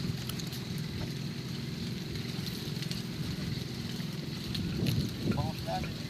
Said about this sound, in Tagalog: Papasok yung bangka namin.